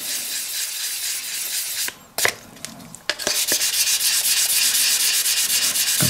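Hand polishing the sides of Victorinox knife scales, close steady rubbing strokes with a brief pause and a couple of sharp knocks before the rubbing resumes.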